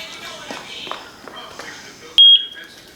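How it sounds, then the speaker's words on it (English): A single sharp, high-pitched electronic beep from a Eufy security home base syncing sounds near the end, brief and clear, after quiet indistinct talk and light handling noises. "Press the sync button so you hear the beep."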